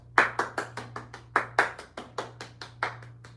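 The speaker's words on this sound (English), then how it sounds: "Round of applause." A single person claps alone in a quiet room, about fifteen sharp, close hand claps in a fairly steady rhythm over a low electrical hum.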